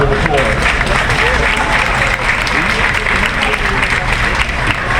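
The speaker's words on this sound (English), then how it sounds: "So we should give him, Chief Madry, a round of applause." Sustained, dense audience applause fills a community town hall in Brooklyn, loud and steady throughout with a busy crowd texture and no pauses.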